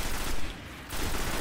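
Sustained gun firing in Destiny on PS4, a dense continuous stream of shots that dips briefly in the middle and resumes, loud and close throughout.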